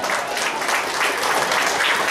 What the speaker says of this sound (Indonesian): Kita sapa dan kasih tepuk tangan untuk juri-juri kita pada siang hari ini.